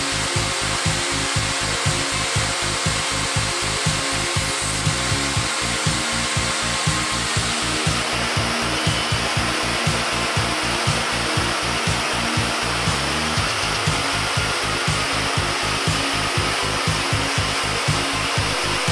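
A CNC joinery machine mills a hidden post base plate in wood steadily, a loud continuous whirring grind with a fast regular pulsing beneath it that runs without pause.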